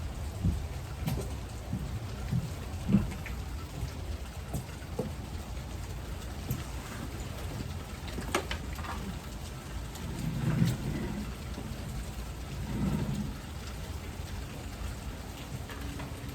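Steady rain falls in a public park, a continuous soft patter of drops on surfaces with a few low rumbles mixed in, nearby and unbroken, with no voices.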